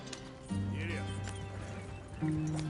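Horse hooves clip-clopping at a run in the video game Red Dead Redemption 2, set against a steady musical drone with brief voices and a faint whinny-like tone.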